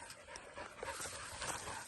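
Dogs working among cattle pant and whimper in a quiet, continuous stretch, with soft yips over a steady outdoor hiss and no one talking.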